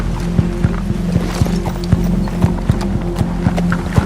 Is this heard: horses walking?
yes